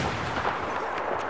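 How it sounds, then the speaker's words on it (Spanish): A Claymore mine explodes in a shooting video game, a short dense blast with rumbling, crackling gunfire-like noise filling the whole moment, loud and close. "Una Claymore ahí, explotó"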